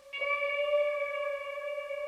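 A sustained bright tone run through the Verbum reverb plugin in its 12-bit vintage mode, a single clear note ringing with a smooth, lingering tail and steady harmonics, heard alone.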